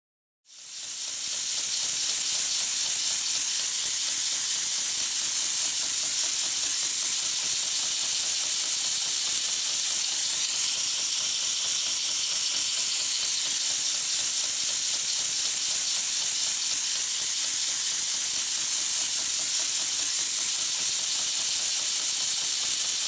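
A model steam engine runs with a steady, loud hiss of escaping steam, continuous and broadband throughout with a faint low hum beneath and no voices.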